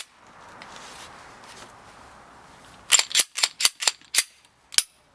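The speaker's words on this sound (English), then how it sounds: "dry fire, that's good" Dry firing a Glock pistol: a series of about six crisp, sharp metallic clicks of the striker and slide in quick irregular succession, close and fairly loud, after a few seconds of quiet low rustling.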